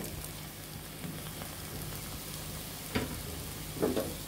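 Garlic, chopped onion, chili and gourd leaves fry together in a pan for a small-shrimp gourd-leaf bharta, giving a steady, moderate sizzle throughout with a couple of brief stirring bumps toward the end.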